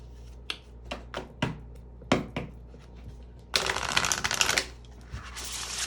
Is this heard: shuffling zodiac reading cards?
yes